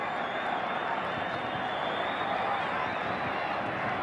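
Continuous, loud applause and cheering from a big rugby league crowd at the 1991 Western Suburbs versus Canterbury playoff, an unbroken wash of clapping with a faint steady hum running underneath.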